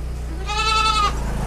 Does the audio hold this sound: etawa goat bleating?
yes